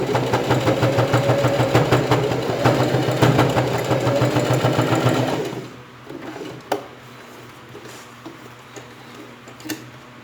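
A sewing machine stitches a fabric school pencil case in a fast, steady chatter for about five seconds, then stops, leaving a quiet room with a few faint clicks.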